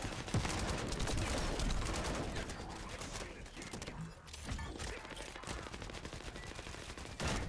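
Sustained automatic weapon fire in the shooter game The First Descendant, dense rapid bursts blasting continuously with only brief lulls, loud and close.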